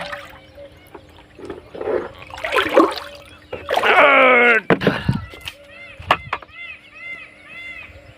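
Water splashes and trickles in bursts as it is filled at a borewell while voices talk and call out nearby, with a sharp shout partway through.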